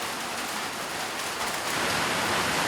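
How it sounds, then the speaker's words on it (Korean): Heavy rain pounds steadily on the roof of a countryside family home, a dense continuous hiss and patter that stays loud and even throughout, with no voices. "천장에 내리치는 빗소리가 좀처럼 잦아들 줄 모른다."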